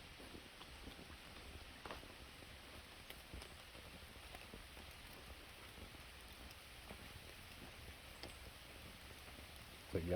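Rain falls outdoors on a sandy trail during a thunderstorm, a steady soft patter of drops that is faint and even throughout, with a small bump of handling noise at the very end.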